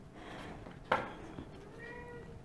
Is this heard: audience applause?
no